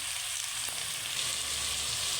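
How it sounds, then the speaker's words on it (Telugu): Tomato pieces go into a sambar pan already holding carrot and okra pieces, giving a steady, fairly loud sizzle and hiss that holds evenly throughout with no talking. "లాస్ట్లో ఇట్లాగా టమాటా ముక్కలు వేసుకోవాలి"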